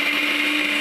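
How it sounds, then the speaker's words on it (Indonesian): Electric blender mixing an instant coconut milk mixture, a loud, steady, high motor whir running without a break. "Nah, ini kita blender, kita campur sampai benar-benar tercampur rata."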